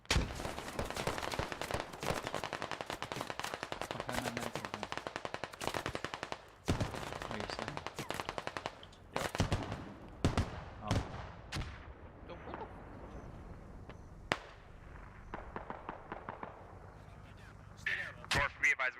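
An artillery barrage and heavy gunfire roar through a Squad battle, with dense machine-gun rattles and sharp cracks early, then thinning to scattered shots and occasional distant blasts, while voices talk faintly beneath.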